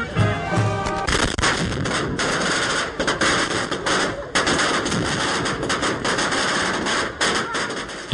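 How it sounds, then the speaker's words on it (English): A huge 50-meter strip of firecrackers at a Guatemalan fiesta in Montufar, a loud rapid crackling barrage of close bangs that keeps going almost without a break. "lighting a huge 50-meter-long strip of firecrackers."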